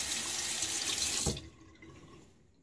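Water runs loudly from a tap as a razor is rinsed during a wet shave, a steady broadband gush that cuts off after about a second and a half, leaving faint dripping and trickle.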